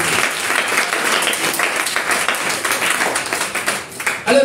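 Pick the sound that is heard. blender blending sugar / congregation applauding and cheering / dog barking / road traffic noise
congregation applauding and cheering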